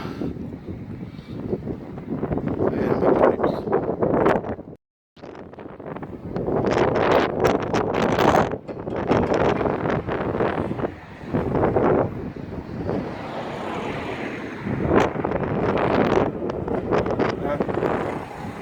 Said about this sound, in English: so I do apologise about if you're picking up a fair amount of wind